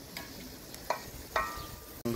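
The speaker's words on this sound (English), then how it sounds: "Can I stir it again?" Tomato being stirred in a pot over a rocket stove, soft sizzling with a few scraping spoon strokes, quiet and close, with a brief voice at the end.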